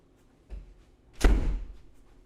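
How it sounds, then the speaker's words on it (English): A door is shut: a soft bump, then a single loud, close thud with a short rumbling tail in an otherwise quiet room. "close this fucking door"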